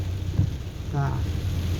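Rain falls steadily during a car drive through Chiang Yuen district, Maha Sarakham, as a soft, continuous hiss around the vehicle, with a brief voice murmuring over it.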